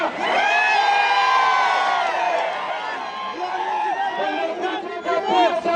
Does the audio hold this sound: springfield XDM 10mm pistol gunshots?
no